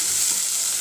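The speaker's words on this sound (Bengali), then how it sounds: "পেঁয়াজটা ভাজা হতে হতে" Onions frying in a wok give a steady, close sizzle with a brief stir or scrape near the end.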